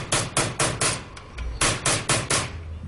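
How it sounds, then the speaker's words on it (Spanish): Hammer and chisel chasing a silver sheet protected with pitch, giving a close, loud series of sharp metallic taps in two bursts of about four strikes each, with a short pause between bursts. "El cincelado consiste en modelar la hoja y los adornos, dándole la forma final. Se realiza en la cara externa con martillo y cincel."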